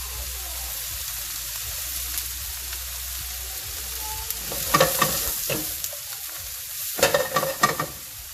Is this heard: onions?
yes